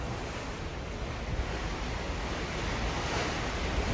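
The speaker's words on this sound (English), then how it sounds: "Love to hear the ocean." Ocean waves and the wake of the Carnival Sunshine cruise ship, heard from Deck 3 near Half Moon Cay, form a steady, loud broadband wash mixed with wind rumble against the microphone, continuous throughout with no talk.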